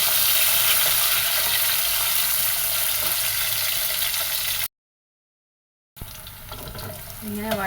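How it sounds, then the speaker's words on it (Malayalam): Pieces of roasted jackfruit fry in hot ghee with a loud, steady sizzling hiss close by. The sound breaks off into a brief silent gap, then resumes with stirring. "അപ്പം നമ്മുടെ ആ ചൂടായ നെയ്യിലേക്ക് നമുക്ക് ആദ്യം ചക്ക ഇട്ട് കൊടുക്കാം."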